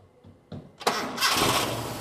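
Toyota Kijang engine being started: a couple of short starter cranks, then the motor catches with a sharp burst and settles into a loud, steady idle up close.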